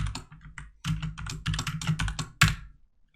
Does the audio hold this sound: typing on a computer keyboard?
yes